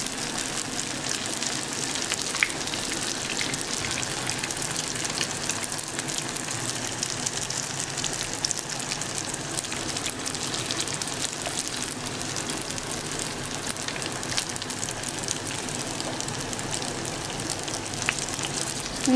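Egg rolls frying in hot oil, a dense, even crackling sizzle that holds steady and close throughout with no voices.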